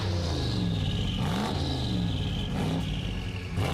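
A car with a freshly installed engine, in Fortnite, idles with a steady rumble and gives a couple of brief revs in the middle and near the end, with no talk over it.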